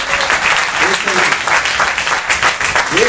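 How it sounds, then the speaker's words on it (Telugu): A church congregation clapping during a Sunday service, a sustained burst of many hands applauding together, loud and close throughout. "యేసు ప్రభుకి ఒకసారి చప్పట్లు కొడతామా?"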